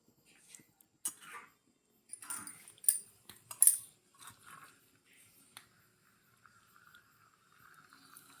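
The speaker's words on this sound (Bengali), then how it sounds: "এবার আমি নাড়াচাড়া করে নেব" A small utensil taps and scrapes in a tiny pan as a miniature egg poach curry is stirred with spices, with sparse, light clinks and scrapes spread unevenly across the clip and near-silent gaps in between.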